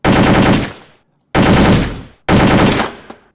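Gunfire in World of Guns: Gun Disassembly, three loud bursts of rapid machine-gun fire, each ringing out briefly before silence, with a faint click after the last.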